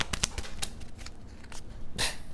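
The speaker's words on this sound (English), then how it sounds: "I need to drop cards when I shuffle." Tarot cards are shuffled by hand in quick riffling bursts, close and moderately loud, with a sharper flurry near the end.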